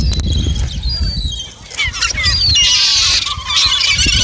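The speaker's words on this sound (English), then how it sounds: "Seagulls." Seagulls at Salem Willows, a seaside park, give loud, overlapping squawking calls close by, continuing almost without pause.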